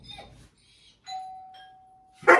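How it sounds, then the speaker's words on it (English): A doorbell chimes once in a house, a clear sustained tone that rings out and fades, followed by a sudden burst of noise. "And then ring the doorbell."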